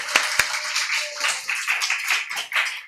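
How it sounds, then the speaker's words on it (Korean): A church congregation claps during a Sunday morning service, a couple of sharp early claps giving way to a loose, uneven patter of hands that carries on throughout, with a murmur of cheering in the room. "박수 함성으로 영광 돌립니다"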